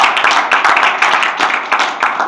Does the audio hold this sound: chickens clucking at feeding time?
no